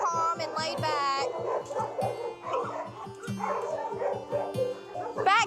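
Many dogs bark, yip and whimper in overlapping bursts from kennels at an overfilled animal shelter, a loud continuous chorus with some near and some farther off.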